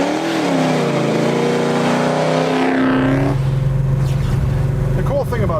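A restored 1969 Chevrolet Chevelle SS396 with a 454 V8 revs hard, its loud engine note climbing in pitch for a few seconds before dropping back to a rough, rumbling idle, close up.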